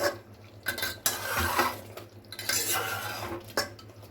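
Crushed onions are stirred into mutton korma in a metal pot, with repeated scraping and clinking of a spoon against the pot, some strokes sharper and closer than others, and no talking.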